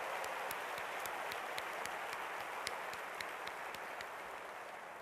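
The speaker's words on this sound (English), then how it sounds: "Give yourself a round of applause," Broad, steady applause from a huge arena audience of more than 20,000 at the Georgia Dome, a faint continuous wash of many hands with a few sharper individual claps standing out across the full stretch.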